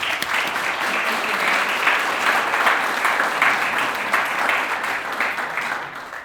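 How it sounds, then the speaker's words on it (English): A gala audience claps in a sustained round of applause, dense and steady throughout, with no talking over it. "let's give them a round of applause"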